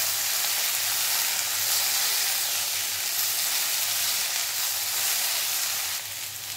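Chopped okra frying in a pan over a full gas flame makes a loud, continuous, close sizzling hiss that eases slightly near the end, with no talk over it.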